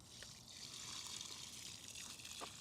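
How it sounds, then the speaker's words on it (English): Water drains out of a bucket of harvested prickly pear fruit in a steady, close trickle and gush that runs for the whole stretch without any talking. "When the bucket is completely full, it's time to drain the water."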